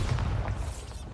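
A Bombarda spell explodes in the video game Hogwarts Legacy, played on PS5, as a loud, close boom that rumbles and fades over about a second; no voices.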